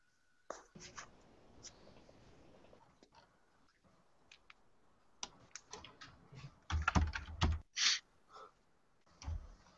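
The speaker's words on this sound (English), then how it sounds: "I hear the typing" Faint, irregular clicking of someone typing on a computer keyboard in a quiet room, with scattered keystrokes that build into a quicker, louder burst toward the end.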